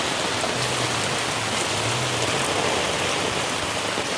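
Dense, steady downpour of heavy rain, a loud continuous hiss filling the air with no talking.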